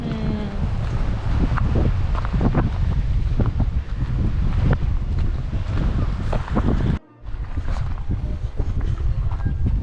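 Strong wind roaring and buffeting the microphone in bursts at Akbük, Didim, on the Turkish coast, loud and continuous apart from a brief dropout.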